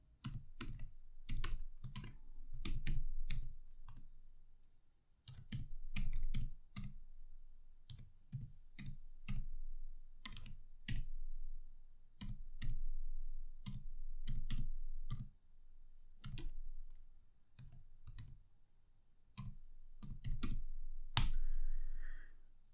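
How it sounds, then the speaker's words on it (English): Typing a web address on a computer keyboard: bursts of crisp, close key clicks in uneven runs separated by short pauses, with no voices over them. "And let's type in the URL."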